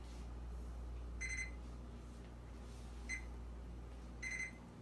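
A kitchen timer gives three short, bright electronic beep bursts, evenly spaced and moderately loud, over a steady low hum in a home kitchen.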